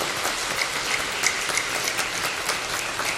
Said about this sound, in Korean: 우리 청년 찬양대 한번 박수로 다시 한번 우리가 격려하겠습니다